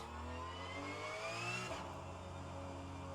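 Porsche 911 GT3 Cup 992 race car in rFactor 2 on the Bahrain circuit at night, its engine revving loudly and steadily with rising pitch, then an abrupt gear shift and a lower, continued drone, no talk.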